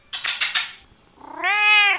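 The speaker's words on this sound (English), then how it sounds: "Meow for them. Meow." A cat meows twice in a home setting: a short, breathy first call followed after a pause by a louder, clear, tonal meow that rises and holds, close to the listener.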